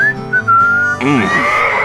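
A lone melodic whistle opens the K-Rose country radio station intro in GTA San Andreas, a clear sustained tune that gives way to a short bent twangy note, loud and close.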